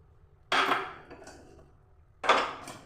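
Fried eggs drop into a pot of okra and yogurt curry with two sharp, close splashes and clatters against the cookware, a short quiet gap between them.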